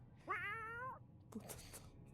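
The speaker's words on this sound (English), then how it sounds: "Was that a cat? Oh, did we get a cat?" A cat in the video game 60 Seconds gives one long, clear, wavering meow near the start. After a short pause, a person speaks briefly.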